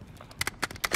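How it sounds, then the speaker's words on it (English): Magazine swap during a reload in Call of Duty: a few sharp metallic clicks and clacks in quick succession, close and fairly loud over low background noise, with no talk. "Switching mags."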